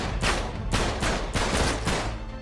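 Rapid gunfire in Uncharted 3: Drake's Deception, loud close bursts of shots coming in several quick volleys with no talk.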